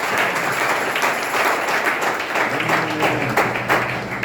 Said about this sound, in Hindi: इन सारे भाई और बहनों के लिए जोरदार तालियां से फिर से एक बार